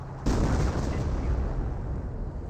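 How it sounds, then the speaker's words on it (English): Artillery fire in the Company of Heroes video game: a sudden heavy blast kicks in and rolls on as a loud, rumbling barrage of explosions. "Panzer Command now seeing some artillery fire"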